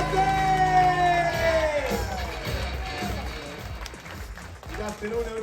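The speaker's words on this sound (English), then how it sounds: "Give a huge round of applause for your captain" Audience applause and scattered cheers for the captain of the Carnival Paradise cruise ship, a sustained crowd wash with whoops under a fading announcer's voice and music, fairly loud and continuous.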